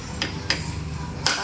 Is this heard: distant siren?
no